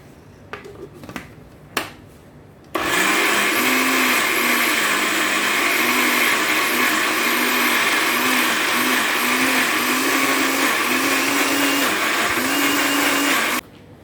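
An electric blender grinds soaked lentils into batter, a loud steady whirring roar with a slight cyclic wobble running for about eleven seconds, preceded by a few clicks and taps and ending abruptly.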